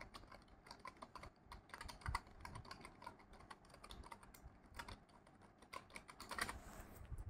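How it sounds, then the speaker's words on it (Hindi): Typing on a TVS membrane computer keyboard, a rapid irregular run of soft close-up key clicks with brief pauses and a few heavier strokes, heard alone without talk. "तो ये है मेम्ब्रेन वाला कीबोर्ड।"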